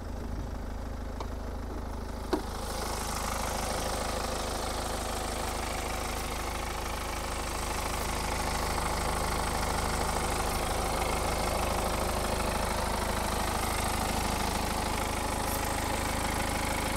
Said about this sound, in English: Beautifully sounding engine.